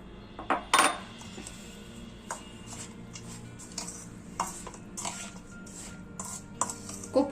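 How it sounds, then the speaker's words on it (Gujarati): Grated coconut being stirred into a mixture in a pan, soft scraping and stirring with scattered metallic clinks of a spoon against the vessel, fairly quiet, no talking. "હલાવી લઈએ હવે આ ટોપરાનું ખમણ આપણે આમાં મિક્સ કરી લઈએ"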